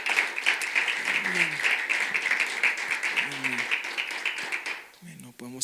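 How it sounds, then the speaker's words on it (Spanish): A church congregation applauding servants at a Spanish-language service, the clapping a steady broadband patter that fills the clip, with voices talking over it before it fades near the end. "Si podemos dar un aplauso, amén, a todos los siervos en este lugar."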